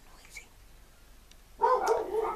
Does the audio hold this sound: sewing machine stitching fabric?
no